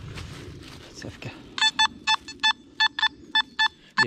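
Nokta Makro Simplex metal detector giving a signal tone while searching in water or woods: a series of about ten short, evenly spaced beeps following some rustling and brief speech-like sounds.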